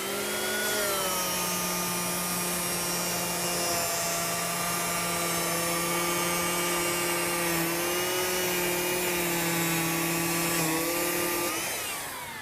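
An Exakt power sander grinds laminate in a steady, loud whine with strong sustained tones, running continuously before spinning down at the end.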